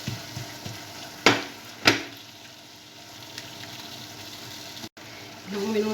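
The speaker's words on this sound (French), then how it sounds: "On ajoute la viande, on mélange bien." Minced meat fries in a pan as it is mixed, with soft sizzling under two sharp clanks of a utensil against the pan, fairly quiet and close.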